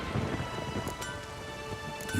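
A stormy video game scene of steady, dense rain hisses with a low rumbling wash underneath and a few brief sharp cracks, continuous and fairly loud, with no speech.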